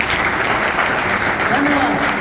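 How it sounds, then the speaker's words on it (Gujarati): An audience at a community get-together claps in a sustained burst of applause, fairly loud and close, with a voice speaking over it. "આ બધા માટે મોટી સંખ્યામાં તાળી પાડો, જોરદાર તાળી"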